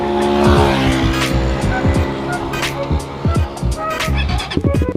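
A Suzuki GSX150R motorcycle fitted with a DST Racing exhaust fires up and revs in sharp repeated blips, its pitch rising and falling, loud and close against an outdoor background.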